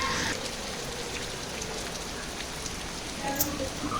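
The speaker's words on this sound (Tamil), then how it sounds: "டிசம்பர் ஐந்தாம் தேதி மீண்டும் மழை பொழிவதை இன்று காணக்கூடியதாக உள்ளது" Steady rain pours over a flood-damaged village in Sri Lanka, a dense, even hiss of drops on surfaces lasting throughout with no talk.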